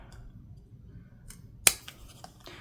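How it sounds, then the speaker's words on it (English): Paper hole punch clipping the edges of junk journal kit pieces: one sharp crisp snip stands out amid quiet handling rustles, with a couple of softer clicks and paper movements after it. "I'm going to use my paper hole punch and just barely clip the edges there"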